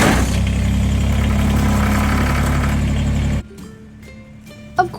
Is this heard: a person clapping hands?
no